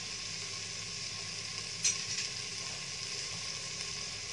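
A steady, moderate sizzle of peas frying in a pan for khichdi fills the background, with a brief clink of a utensil partway through.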